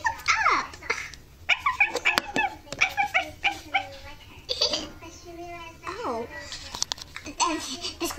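A dog whimpers and whines in high, wavering cries mixed with short barks, heard close, while people talk over and between the sounds.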